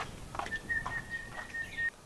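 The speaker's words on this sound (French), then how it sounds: "Celle-ci va en sifflotant." A single person whistles a short melody, a thin steady tone broken into a few held notes, close and moderately loud with no talking over it.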